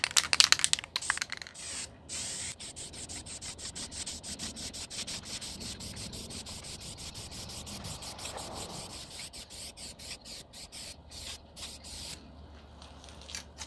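Repeated short hissing bursts of a spray can painting a 1998 Jeep Grand Cherokee outdoors, rapid pulses at first then longer steady sprays, close up with rubbing noises between, no talking.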